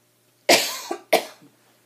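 Two sharp coughs close by, each followed by a brief softer catch, in an otherwise quiet room.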